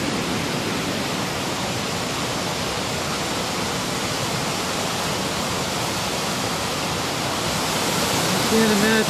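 Creek water rushes steadily at a trail crossing where bridges have been wrecked, a loud continuous broadband roar that fills the whole stretch with no pauses.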